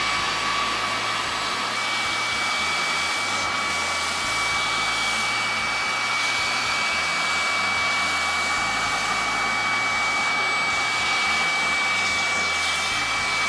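Steady whine of a MOOSOO K23 Pro cordless stick vacuum cleaner running at full suction, loud and continuous with a constant high tone and no talking.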